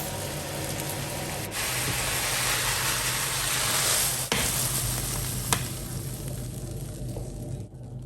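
Eggs scramble in a hot pan of stir-fried vegetables for shrimp fried rice, with a loud, continuous sizzle and frying hiss, punctuated by occasional stirring scrapes and no voices.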